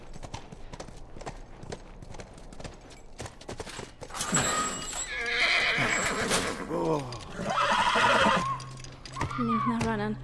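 Horse hooves clip-clop steadily in The Last of Us Part I, then a loud close neigh and whinny rise over the hoofbeats, with snorts near the end.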